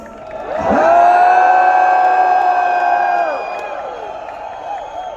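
Large crowd at a Star Awards event in Mumbai cheering and whooping, a loud sustained roar of voices with rising shouts that swells quickly, holds for a few seconds, then fades.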